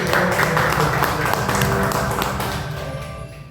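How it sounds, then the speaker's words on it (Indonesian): Crowd applause, a dense patter of clapping that holds steady and then slowly fades toward the end. "Tepuk tangan sekali lagi"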